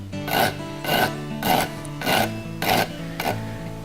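A rasp files the burr off a horseshoe nail where it comes out of a hoof: six rhythmic, evenly spaced rough scraping strokes, close and clear.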